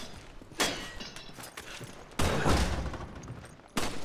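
Gunshots in the Resident Evil 5 video game, three separate loud sharp reports at irregular intervals, each decaying into a short rumble over quiet background.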